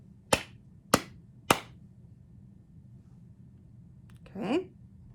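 Three sharp hand claps in an even rhythm, evenly spaced and close, followed by a pause and a brief voice.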